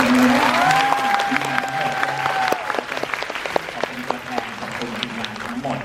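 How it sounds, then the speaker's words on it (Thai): An audience at a series finale screening in the Major Ratchayothin cinema applauds steadily and loudly throughout, while a voice carries on over the clapping. "อยากให้ทุกคนขอเสียงปรบมือ"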